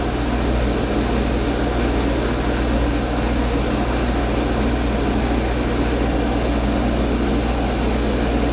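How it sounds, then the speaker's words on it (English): A wood lathe runs steadily throughout while sandpaper is held against a spinning base for a night light, giving a loud, continuous droning whir with no pauses. "The lathe tears the sandpaper up pretty quick."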